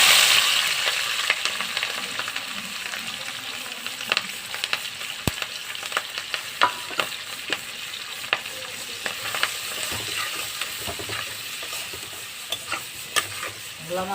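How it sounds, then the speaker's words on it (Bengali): Onion, green chili and garlic temper in hot oil for a fish curry, a soft constant sizzle punctuated by frequent scraping clicks and taps of a spatula stirring the pan, close and fairly quiet. "তেলে ফোড়ন দিব পেঁয়াজ, কাঁচা লঙ্কা,"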